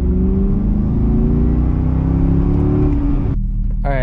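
A car fitted with a throttle controller revs up loudly and close by, its engine tone climbing steadily before dropping off near the end, with no talking over it.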